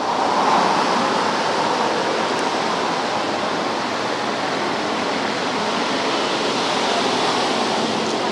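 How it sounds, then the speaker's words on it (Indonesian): Swift flood water in Ngawi, East Java roars as a constant, dense broadband rush, loud and unbroken, with no voices over it. "jembatan penghubung antar desa di Ngawi, Jawa Timur roboh diterjang derasnya arus banjir"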